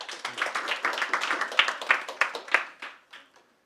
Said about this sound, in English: please give a warm round of applause for Head of Content,